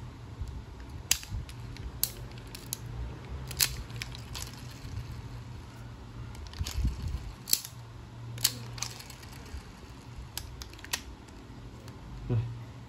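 A Japanese horizontal baitcasting fishing reel made in Thailand gives a soft, smooth spinning whir. Sharp mechanical clicks from the line-release button break in at intervals, all close up, and a voice speaks intermittently.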